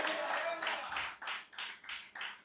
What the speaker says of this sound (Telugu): ధైర్యం వస్తే ఒకసారి చప్పట్లు కొట్టి హల్లెలూయా అనండి